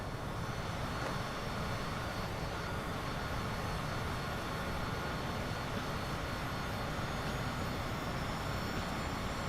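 An Airbus A320neo auxiliary power unit spins up in Microsoft Flight Simulator, a steady, faint broadband roar with a thin high whine, continuous and unbroken throughout with no voices.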